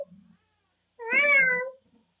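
A domestic cat gives a single clear, drawn-out meow that rises and falls in pitch, close by, with a faint low murmur just before it and quiet all around.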